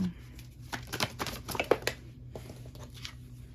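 A deck of reading cards is shuffled by hand in a short run of close, crisp riffling bursts and soft slaps, followed by a quieter pause.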